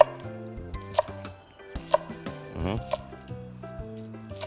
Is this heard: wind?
no